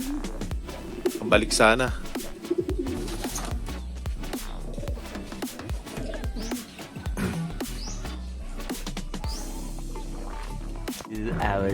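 Pigeons coo repeatedly in the background of a loft of Taiwan Gold racing pigeons, soft rhythmic calls mixed with other bird chirps under ongoing Filipino conversation nearby.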